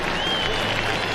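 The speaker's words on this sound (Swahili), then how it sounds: "Tuongeze makofi wananchi tafadhali." An outdoor crowd at a KDF military air show festival at Uhuru Gardens applauds, a steady wash of clapping mixed with crowd noise that carries on at an even level through the brief moment.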